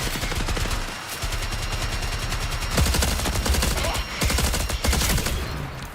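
Automatic turret gunfire in the video game Marathon, loud rapid-fire bursts rattling almost continuously, with brief pauses between volleys.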